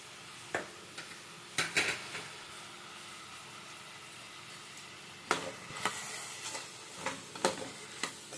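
Radish stirred in a pan with chilli powder, turmeric and salt, giving a low sizzle with a handful of light clinks and scrapes of a spoon against metal, scattered and close, no talking.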